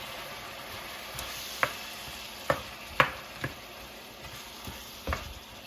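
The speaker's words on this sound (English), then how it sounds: "I'm just going to put that all in there. Give it a nice stir" Herbs and oregano stirred into a simmering fresh pasta sauce, a low bubbling hiss broken by a handful of distinct spoon knocks against the pot, spaced irregularly and quiet overall.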